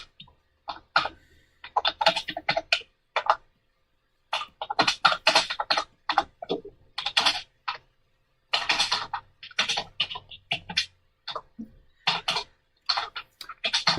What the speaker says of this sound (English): Punishing that keyboard again.